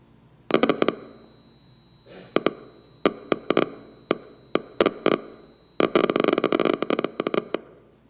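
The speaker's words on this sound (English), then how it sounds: "That is the sound of neurons sending messages to their neighbors." Sharp crackling pops from recorded neural electrical discharges, arriving in irregular bursts and dense rapid clusters, with a faint steady high tone beneath.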